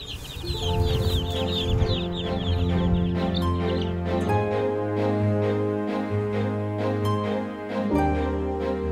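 Chickens cluck repeatedly in a lively farmyard chatter, set against steady background music.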